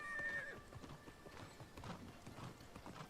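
Horse hooves in New World clip-clopping in a quick, uneven rhythm up a mountainside, with a short whinny at the start and soft background ambience.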